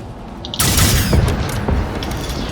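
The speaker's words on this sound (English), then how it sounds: "And that guy is shooting the wall for some reason." Sustained gunfire in the video game Generation Zero, an enemy shooting into a wall: a dense, loud burst of rapid shots starts abruptly after a quiet moment and keeps rattling steadily to the end.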